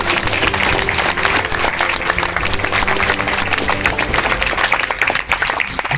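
An audience at a political gathering breaks into sustained, loud applause, a dense wash of clapping that holds steady from start to finish.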